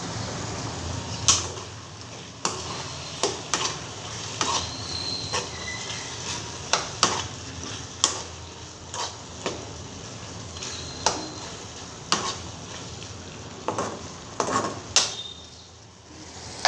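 A spoon stirs curry in a frying pan with light, irregular scraping clicks and taps over a soft background sizzle, close and fairly quiet.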